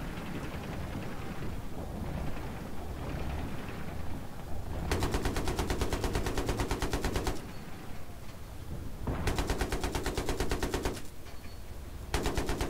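Automatic weapon fire in Battlefield 3 on the Noshahr Canals map, loud sustained bursts in two long stretches separated by quieter rumbling battle ambience, with no voices.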